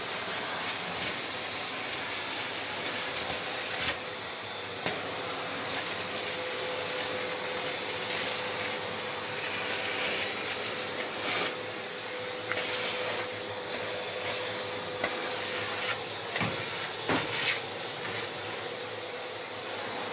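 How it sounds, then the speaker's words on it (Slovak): Makita VC 2512 L workshop vacuum cleaner running steadily at close range, a continuous broadband hiss and whine with a few brief bumps and clatters of debris being sucked up. "Takže už vidieť, že vysávač znova ide."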